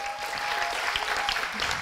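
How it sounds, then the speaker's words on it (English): Audience applause for student teams after a morning of master's project defenses, a steady, dense wash of many hands clapping throughout, moderately loud and unbroken. "let's a big round of applause for all the teams of this morning"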